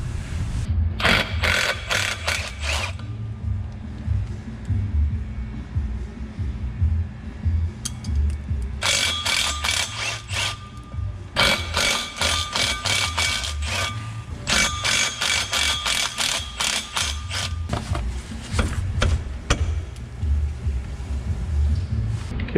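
A ratchet wrench backing off 14mm nuts on a Toyota Tacoma drive shaft during a center support carrier bearing replacement: bursts of rapid ratcheting clicks, close and loud, separated by short pauses and mechanical scraping.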